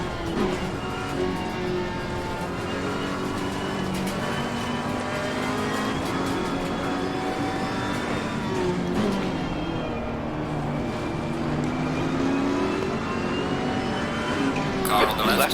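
Race car engines droning and shifting pitch through laps of Zandvoort in Assetto Corsa Competizione, a steady sustained whine with rising and falling tones, while a voice talks over it throughout.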